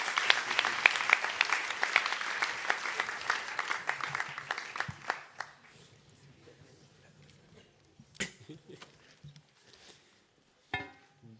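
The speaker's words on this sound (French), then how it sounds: "on les applaudit bien fort." At the grand opening of the SHAKA Festival 2025, an audience claps loudly and densely for several seconds. The applause then thins to scattered claps and fades, with a few isolated knocks near the end.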